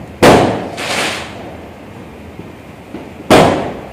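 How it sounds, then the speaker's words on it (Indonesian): Firecrackers burst outdoors at the turn of the year from 2024 to 2025: three sharp, loud cracks, two close together and one more after a pause, each followed by a short echoing tail. "Yang kita dengar itu adalah ledakan mercon pertanda pergantian tahun 2024 dengan tahun 2025"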